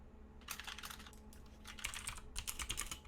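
Quiet, close typing on a computer keyboard, with bursts of rapid key clicks separated by short pauses and a faint steady hum underneath.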